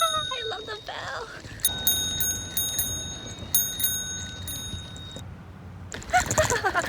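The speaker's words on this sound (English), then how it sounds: "Ah, I love the bell." Bright metallic bell on a bicycle ringing in several quick repeated dings during an uphill park ride, ringing tones that hang briefly before fading, with people talking nearby and rustling outdoor noise underneath.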